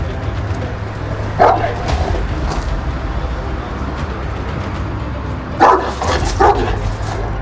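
An aggressive shepherd dog barks in a few sharp bursts, one near 1.5 seconds and a cluster around 5.5 to 6.5 seconds, fairly close and loud over steady low background noise.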